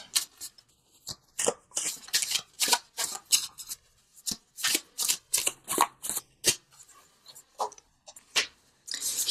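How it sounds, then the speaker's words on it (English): Oracle cards shuffled by hand in a quiet room, a long run of crisp riffling bursts in an uneven rhythm, close and clear with no talk. "let's pull a visionary card from Noah Nafu, just for some added guidance"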